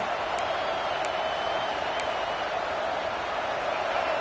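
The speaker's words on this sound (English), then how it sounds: "This crowd trying to make life miserable for this offense." A packed football stadium crowd roars in a steady, dense wall of noise, loud and unbroken, with no clear individual voices standing out.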